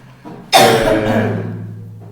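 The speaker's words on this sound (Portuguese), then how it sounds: "estava tossindo também desse jeito semana passada, estava tossindo demais" A single loud, harsh cough bursts out close by, then rasps away over about a second and a half.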